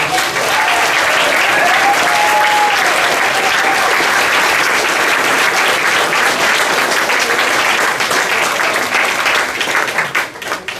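A school graduation ceremony crowd breaks into loud, sustained applause and cheering as a graduate is called up, a continuous roar of clapping with shouts and voices mixed in, easing slightly at the end.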